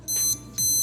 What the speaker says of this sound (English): it makes the little beep whenever you do it